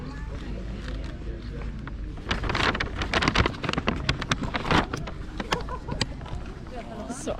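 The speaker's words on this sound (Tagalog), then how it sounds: "Ay, kay murag taligsik na din siya. Raining na." Rain falling outdoors as a steady broadband patter, growing denser and louder midway with scattered brighter drop hits, while a person talks over it throughout.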